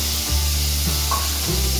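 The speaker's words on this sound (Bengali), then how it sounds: "টমেটোগুলো সুন্দর ভাজা হচ্ছে" Chopped tomatoes and onion frying in a pan, a steady close sizzle with a few brief stirring bumps.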